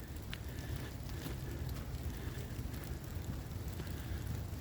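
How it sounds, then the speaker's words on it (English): Steady rain falls outdoors as a constant, fairly loud hiss and patter with no clear breaks, and no voices over it. "right now it's raining, but it's supposed to rain even harder"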